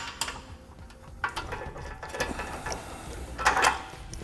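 Bolts are fastened to hold a replacement bumper beam on a 2015 Chevrolet, producing close ratcheting clicks and metallic rattles in uneven bursts, with no talking.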